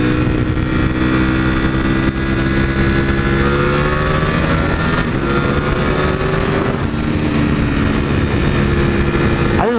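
A V4 motorcycle engine on an aggressive run, revving hard and changing pitch as gears shift, loud and close with a constant drone throughout.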